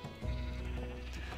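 A single Minecraft sheep bleats once, a short nasal wavering call that is fairly quiet.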